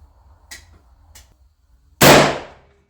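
A single sharp WWII sniper rifle shot cracks loudly outdoors after two faint clicks, followed by a brief decaying echo.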